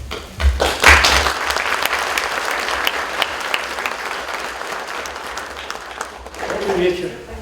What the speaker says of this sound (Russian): Появление актеров они встретили бурными овациями.